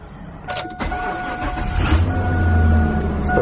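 A 1999 Chevy Silverado extended cab with a 4.8 V8 and five-speed manual cranks briefly and catches, settling into a steady low idle rumble with a faint electrical whine above it.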